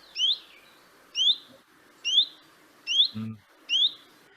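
A chiffchaff gives five short, upward-slurred calls at an even pace, clear and fairly close, with a faint low thump near the end.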